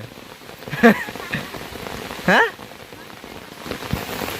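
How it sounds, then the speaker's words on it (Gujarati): Heavy rain falling steadily on a farm field, a dense even patter throughout, with brief spoken exclamations from people nearby cutting in twice. "તો વરસાદ જોરદાર ચાલુ"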